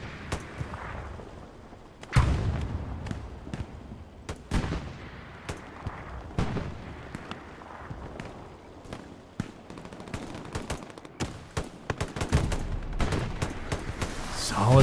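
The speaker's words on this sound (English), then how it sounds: "MG's laying suppressive fire on the points" Machine gun suppressive fire and other gunfire rattle through a Hell Let Loose battle, with sharp bursts and booming shots at irregular intervals, some close and loud, others distant, and little talk.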